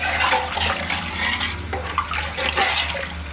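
Water gushes steadily and loudly into a large pot for biryani rice, a continuous full splashing pour with slight surges and no speech.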